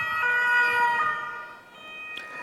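Emergency vehicle siren wailing steadily with strong tonal sweeps, fairly loud and continuous throughout, fading slightly partway then rising again, with no talk.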